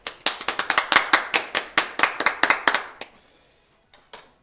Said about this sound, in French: Alors merci beaucoup et grands applaudissements.